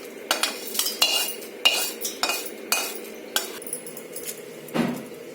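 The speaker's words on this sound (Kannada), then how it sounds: "ಬಾಣಲೆಯಿಂದ ತೆಕ್ಕೊಂಡು ಒಣಗಿರೋ ಪಾತ್ರೆಗೆ ಹಾಕ್ಕೊಳ್ಳಿ." Roasted spices for sambar powder being scraped from a kadai pan into a dry bowl, a steady run of light metallic clinks and scrapes as a spoon taps the pan and bowl edges, close and alone.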